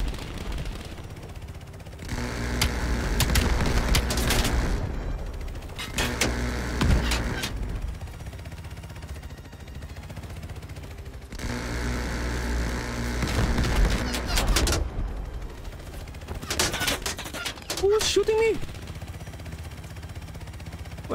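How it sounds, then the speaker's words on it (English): Bursts of gunfire and mechanical combat noise from Call of Duty Cold War story mode, coming in two long dense stretches separated by quieter gaps, steady and moderately loud. "Who's shooting me?"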